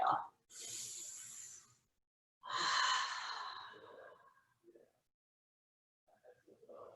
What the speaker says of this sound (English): Couple breaths here. Inhale and exhale.